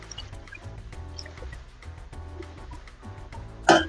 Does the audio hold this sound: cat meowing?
no